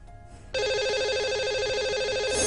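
Outgoing telephone call to a radio show caller rings loudly and steadily, a repeating electronic ring tone starting after a brief quiet moment and continuing to the end, with no talk over it.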